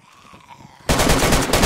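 A sudden loud burst of gunshots from the video game DayZ breaks in after a quiet moment and keeps going as rapid, close crackling to the end.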